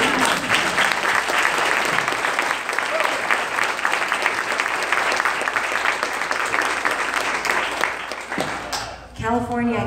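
Audience at a housing policy Q&A event breaks into loud, dense applause from a crowd, steady for several seconds before fading out as a speaker's voice resumes at the end.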